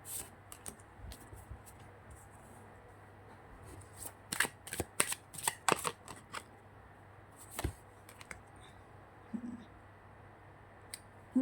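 Tarot cards shuffled by hand during a card reading, a burst of quick riffling flicks in the middle, then a few softer taps and slides, fairly quiet.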